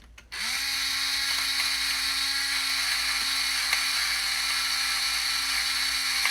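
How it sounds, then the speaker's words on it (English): A quiet peppermill grinds pepper over sourdough ciabatta dough. It starts abruptly and then holds a steady mechanical whirring drone for about six seconds, with no talk. "So I'll just grind a little bit more. This one's a bit quieter, this peppermill, so it's good."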